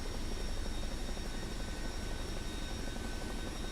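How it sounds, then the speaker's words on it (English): Chinook helicopter in Microsoft Flight Simulator 2024, a steady, loud rotor and engine roar filling the whole stretch without a break, with no talk over it. "We flew the Chinook."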